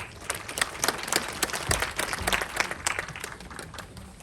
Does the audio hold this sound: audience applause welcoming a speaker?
yes